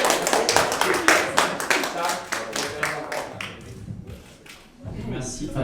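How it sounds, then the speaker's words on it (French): An audience at a film night bursts into clapping, loud and dense at first with sharp individual claps, then thinning out and fading before voices pick up again. "On peut les applaudir."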